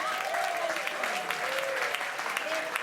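Audience applause for Iowa at a live show, a dense, steady round of clapping from a large crowd with some voices mixed in.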